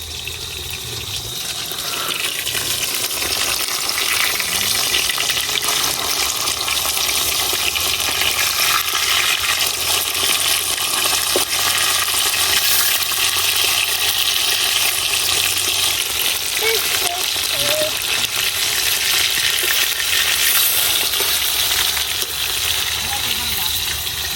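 Flipped rohu fish fries in oil with a constant, loud crackling sizzle over its whole length, with some faint stirring and scraping under it.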